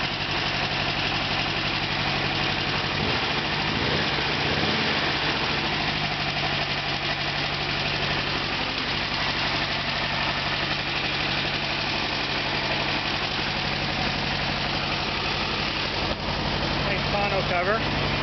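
Engine idling on a 1922 Ford Model T replica built on a 1956 Volkswagen Beetle chassis, a steady close rumble with an even vibrating hum throughout while a person talks over it.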